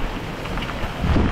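Heavy rain in a thunderstorm at sea near an offshore drilling rig, a loud dense roar of rain and wind buffeting with a deeper rumble swelling toward the end, close and continuous.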